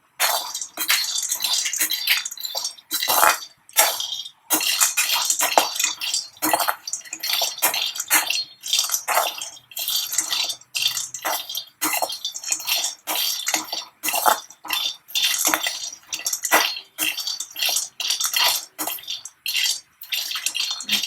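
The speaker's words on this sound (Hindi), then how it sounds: "ये मूंगफली है, इनको 3 मिनट तक भूनना है।" Raw peanuts dry roasting in an open pan, stirred continuously, with a dense run of rapid rattling clatter and scraping from the nuts and spoon against the metal, steady and close throughout without talk.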